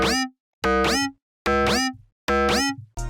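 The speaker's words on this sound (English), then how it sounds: "it's really just like a bass with hella glide on it" Four punchy synth bass notes made in Massive X, each swooping sharply in pitch with heavy glide, separated by short silences and ending on a brief fifth hit.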